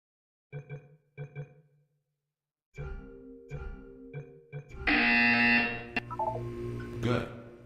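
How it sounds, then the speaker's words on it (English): A harsh electronic buzzer from the game Portal 2 sounds as one loud, sustained burst lasting about a second, coming after a calm synthetic voice speaks in short phrases over a low hum. "You will hear a buzzer."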